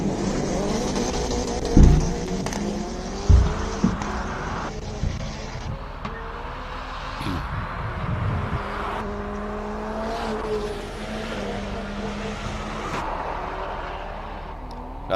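Race cars at the Simola hillclimb, an Alfa Romeo 4C and an Alfa Romeo Stelvio, snarl and rev through gear changes, with engine pitch rising and falling and sharp pops, heard from trackside at a moderate distance without talk.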